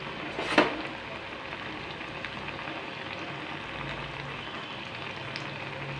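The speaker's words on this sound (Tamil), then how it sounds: "எண்ணெய் நல்லா சூடானதுக்கப்புறம் நம்ம பொட்டேட்டோ நட்லெட் சேர்த்து போட்டுக்கலாம்" Potato nuggets coated in bread crumbs fry in hot oil with a steady, soft crackling sizzle and a brief louder splash near the start.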